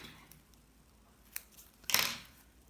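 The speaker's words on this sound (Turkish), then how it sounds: "Bir zincir çekiyorum, ipi kesiyorum." Scissors snip through raffia yarn after a crochet chain on a handmade bag panel, a single crisp cut near the end of an otherwise quiet stretch, preceded by a faint click.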